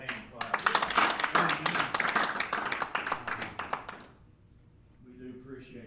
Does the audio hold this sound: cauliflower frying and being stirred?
no